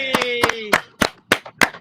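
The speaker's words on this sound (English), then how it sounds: "Yes, round of applause for the OG." Several claps ring out in an uneven rhythm alongside brief vocal sounds, close and fairly loud.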